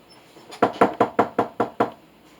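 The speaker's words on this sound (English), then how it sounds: "So when the devil comes knocking" Seven firm knocks on a door land in an even, steady rhythm, close and distinct, each decaying quickly, with no voices alongside.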